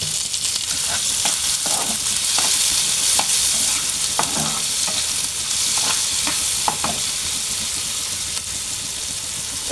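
Onions fry in oil in a pan for bharta, a loud continuous sizzle with repeated scraping stirs at an irregular rhythm, close up and without talk.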